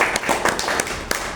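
A meeting audience breaks into short applause, a brief scatter of hand claps of moderate loudness with no talk over it.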